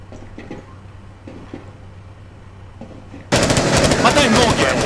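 Gunfire in Rainbow Six Siege, a sudden loud sustained burst of rapid automatic shots after quieter moments with faint footsteps and scattered clicks.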